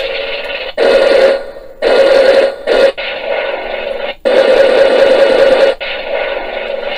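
A Mitsubishi Zero fighter model kit sound module plays cannon fire, loud bursts of rapid gunfire cutting in and out over a steady engine drone, with a harsh, tinny speaker quality.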